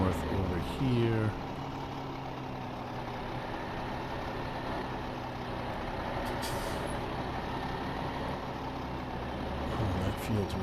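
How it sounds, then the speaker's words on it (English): Kenworth truck in the video game Farming Simulator 2015, a short hiss like an air brake release at the start, then a low engine rumble idling steadily underneath, with someone talking over it. "I'm going to pull the Kenworth over here."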